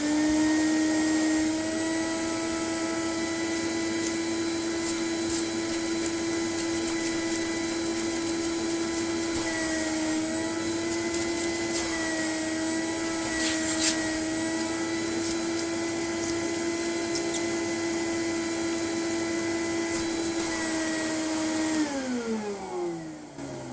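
A Vax Mach Air cyclone vacuum cleaner whines continuously at close range with a steady high-pitched motor tone, then winds down as it switches off at the end.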